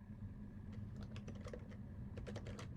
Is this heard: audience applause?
no